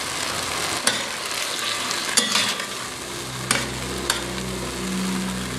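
Tofu stir-fries with black soy sauce in a pan for chop suey. A loud, continuous sizzle is broken by several sharp spatula scrapes and knocks.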